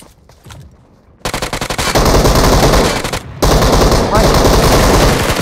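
Rapid automatic gunfire bursts in the PUBG Mobile battle royale game, loud and close, with a stuttering volley followed by sustained heavy firing and a brief pause before another long burst.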